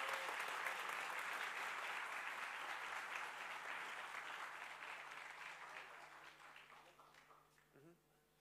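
An audience at the notDEVCON blockchain event at ITU applauding for Vitalik Buterin, founder of Ethereum: a full crowd clapping that starts strong and gradually fades away, with a little murmuring near the end.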